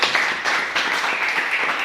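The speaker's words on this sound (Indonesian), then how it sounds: "Tepuk tangan dulu buat mereka." A group in a classroom applauds the presenting group after a discussion presentation, a steady, moderately loud wash of clapping hands lasting a couple of seconds.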